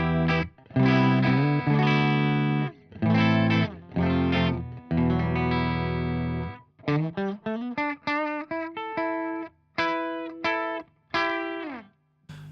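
A Telecaster electric guitar with True Grit pickups through the clean channel of a Marshall TSL 60, ringing full chords followed by shorter plucked phrases, clear and loud with brief gaps between notes.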